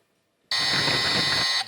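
A loud electronic game show buzzer sounds once in a steady harsh tone lasting about a second, clear and close, following brief silence.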